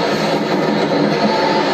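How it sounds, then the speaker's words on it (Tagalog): A helicopter flying overhead on New Year's Eve in the UK, a loud, steady engine roar with no pauses throughout the brief moment. "May helicopter pa nalipad."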